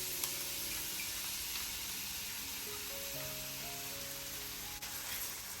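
Chopped onion sizzles in olive oil in a frying pan: a soft, continuous hiss and crackle stays even throughout, quiet and close, with no talking.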